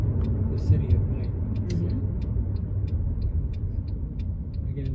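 A car drives through a hilly city at night with a steady, close engine and road rumble, faint clicks and ticks above it, while a person talks throughout.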